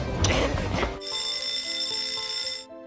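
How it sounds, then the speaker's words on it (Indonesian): A bell rings in an anime school scene, a steady sustained electric ring with bright, even tones that holds for about two seconds after a burst of louder busy sound, then cuts off. "Saat bel asli berbunyi, Saien dan timnya pergi."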